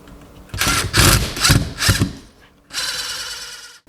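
A power drill whirs in several short bursts, revving up and stopping, then runs in one longer steady burst as a screw is driven close by, securing a mini split mounting bracket to a wall.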